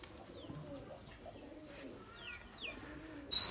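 Giribaz pigeons in Rajshahi coo softly and faintly from a short distance, with a few thin higher chirps and a brighter call near the end over low background noise.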